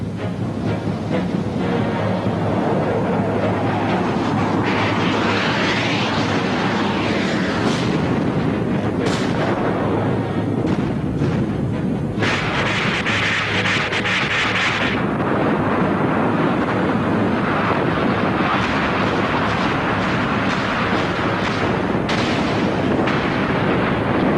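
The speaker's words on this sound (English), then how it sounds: "A daylight naval assault along the Baltic coast of West Germany, backed up by heavy Soviet bombing." A daylight naval assault on a Baltic coastline, backed by heavy bombing and gunfire, sounds like a dense, continuous rumble with bursts of heavier blasts rising out of it, and no voices.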